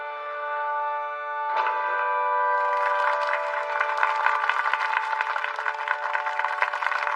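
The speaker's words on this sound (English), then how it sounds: "Please welcome them with a round of applause" Crowd applause greets a bride and groom's grand entrance in an anime wedding scene, swelling into dense, crackling clapping over sustained music for several seconds.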